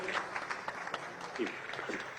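Brief applause from an audience at a government scholarship scheme event with Gujarat's Chief Minister, quiet scattered clapping heard from a distance, with voices faintly underneath.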